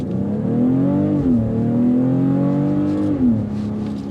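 A BMW X4 M40i's inline-six engine pulls hard and loud from start to finish, its steady rising drone dipping briefly at about 1.2 and 3.3 seconds as gears shift.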